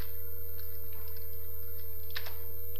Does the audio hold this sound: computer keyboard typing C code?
yes